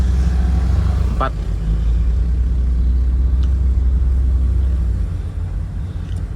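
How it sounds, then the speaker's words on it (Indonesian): A car travels along a busy road at night on a homeward trip, giving a steady, loud low engine and road rumble throughout, with a brief higher whine partway through. "Kita nyetir gantian sama si Urip."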